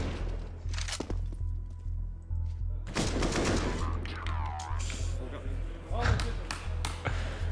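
AK rifle gunfire in a Counter-Strike esports match, bursts of shots and a rapid fusillade under excited commentator talk and crowd noise.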